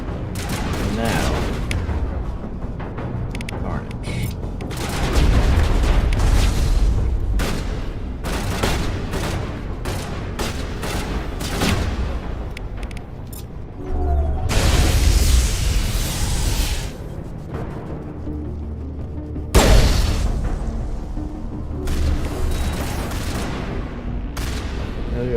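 Sustained gunfire and booming impacts in Mass Effect combat, repeated volleys and heavier blasts rising and falling over a continuous battle din, with voices mixed in.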